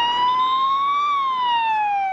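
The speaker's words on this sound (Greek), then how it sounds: "πάγωσε η κυκλοφορία των οχημάτων στη βιομηχανική περιοχή Στροβόλου από τις σιρήνες των πυροσβεστικών οχημάτων και ασθενοφόρων" Sirens of fire engines and ambulances in the Strovolos industrial area, heard as a loud, close wailing tone that rises and then falls, steady and with no talk over it.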